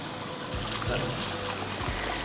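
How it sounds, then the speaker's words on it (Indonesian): One cup of rice being rinsed in water, with a continuous wet trickling and sloshing and a couple of soft thumps, close and fairly loud. "Kita cuci sampai benar-benar keluar airnya bersih"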